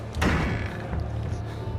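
A door slams shut in the horror video game Outlast 2 with a single loud, heavy thud, followed by a sustained low rumble of game ambience and no talk.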